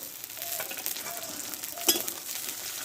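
Ginger paste and chopped tomato fry in a hot pan with a steady, bright sizzle, joined by a few stirring scrapes and one sharper clink near the end. The sound is close and carries no voices.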